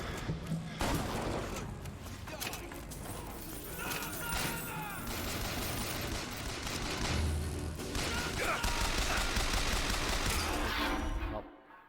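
Gunfire from a first-person shooter video game, a dense, loud barrage of rapid shots and impacts that runs almost continuously for several seconds with game sound effects layered beneath, then cuts off abruptly.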